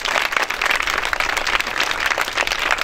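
An audience applauds at a school awareness event in Côte d'Ivoire's Marahoué region, a dense, steady wash of many hands clapping together for about three seconds, loud and close, with no talk over it.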